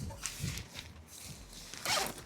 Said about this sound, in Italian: La classica zip si entra all'interno